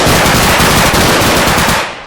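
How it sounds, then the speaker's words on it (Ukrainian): MPX submachine gun fired in the tactical shooter game Bodycam: a loud, continuous burst of automatic fire lasting about two seconds, shots running together in a dense rattle before trailing off at the end. "я дуже не люблю звук, як стріляє оця МПХ"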